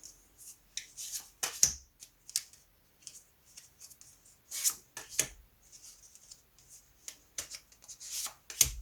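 Tarot cards being cut and laid out one by one, crisp papery slides, snaps and brushing strokes coming in irregular bursts with quiet gaps, close and fairly soft.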